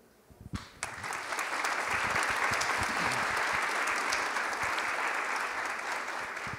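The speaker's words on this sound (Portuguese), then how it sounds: "Espero que tenha ouvido daí os aplausos aqui da plateia à sua fala." An audience at a G20 health agenda session in Rio de Janeiro claps after a speech, with a few early claps swelling into sustained, even applause from the crowd that carries on to the end.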